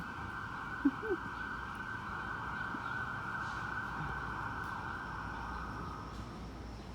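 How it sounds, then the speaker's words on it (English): A distant ambulance siren wails steadily in the background, faint and sustained, with a couple of soft knocks nearby. "And there's the ambulance again."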